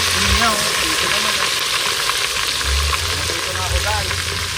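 Tilapia fries in a pan with a constant loud sizzle and crackle of hot oil, steady throughout with occasional low clatter from handling nearby.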